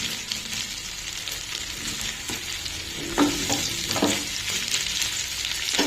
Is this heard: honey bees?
no